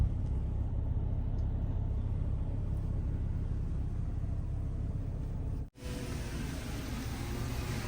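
A truck drives through a flooded street in Georgetown after rain, giving a steady low rumble and broadband water wash that run throughout with one brief dip near the end.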